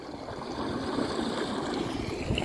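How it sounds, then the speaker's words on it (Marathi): Strong water flow rushing through a canal toward a lake, a steady, moderately loud churning roar that holds without pause and swells slightly toward the end. "पाण्याचा प्रवाह खूप जास्त आहे"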